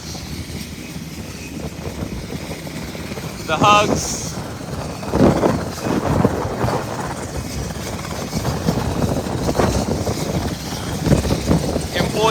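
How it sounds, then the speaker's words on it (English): A constant helicopter rotor thrum and wind rumble at Unicoi County Hospital during a rooftop rescue fill the background while a person speaks over it, with a few louder gusts. "We're about to have 3 helicopters here on the ground."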